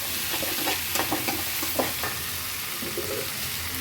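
Spinach mixture being fried for a spicy spinach chutney, continuous moderate sizzle close by with a quick run of spatula scrapes and taps in the first two seconds, then a calmer hiss.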